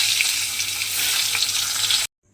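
Pointed gourd (potol) pieces fry steadily in hot oil, a dense, even crackling sizzle held close and loud for about two seconds before cutting off abruptly to silence.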